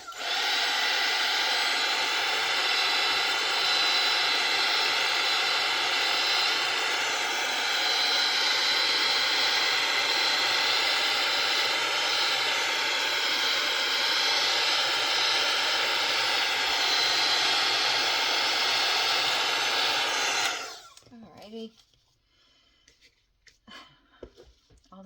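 A hair dryer blows on wet coffee-dyed paper with a steady, loud, close whooshing drone. It holds for about twenty seconds and then cuts off, leaving faint handling sounds.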